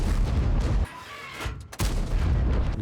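Tank cannon shots in World of Tanks, two loud booming blasts about a second apart, each dropping into a brief lull before battle noise resumes.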